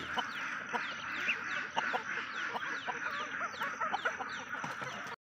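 Ducks and chickens on a small farm during the morning egg collection, giving a steady chorus of quacking, honking and clucking close by that fills the whole stretch without any talk.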